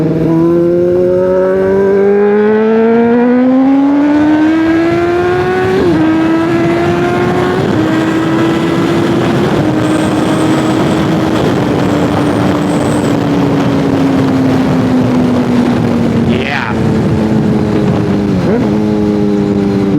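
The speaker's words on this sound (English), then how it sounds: "You get those low rumbles and crackles too in the low RPM" A Honda CBR600RR motorcycle with an aftermarket exhaust, no catalytic converter and no servo revs hard and loud up close, its pitch climbing through several gear-like steps in a continuous raspy engine howl.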